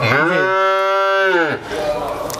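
A Red Friesian or Holstein Friesian heifer lets out one long, loud, close moo lasting about a second and a half, followed by a short stretch of low background noise.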